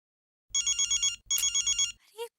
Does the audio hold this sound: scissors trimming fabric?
no